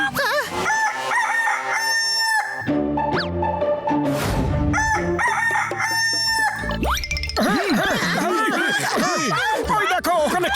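A cartoon rooster crows loudly and repeatedly in a long warbling cock-a-doodle-doo, mixed with clucking and animated voices shouting over it.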